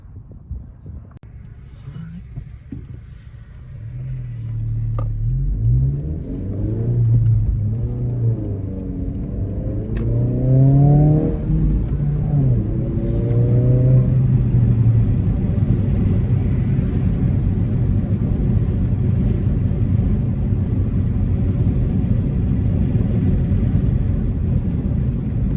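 A 2022 Honda Civic Si with a resonator-delete exhaust revs and accelerates through several climbing pulls, the engine note rising and dropping, then holds a loud, raspy drone close by.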